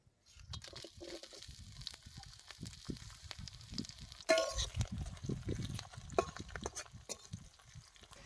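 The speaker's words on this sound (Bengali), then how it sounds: "আমরা ফোড়নে দেব গোটা জিরে, কয়েকটা শুকনো লঙ্কা, দুটো তেজপাতা, আদা কুচি আর কাঁচা লঙ্কা কাটা" Whole cumin, dried chillies, bay leaves and chopped ginger spit and crackle in hot oil, with a quiet, uneven sizzle and a few sharper pops as the spices hit the pan.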